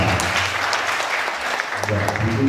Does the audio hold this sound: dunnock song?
no